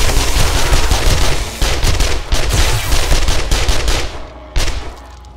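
Gunfire from 7 Days to Die during a zombie horde night: loud, rapid automatic bursts run almost nonstop, break off briefly near the end, then return with one last short burst.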